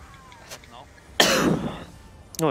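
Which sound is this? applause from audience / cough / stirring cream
cough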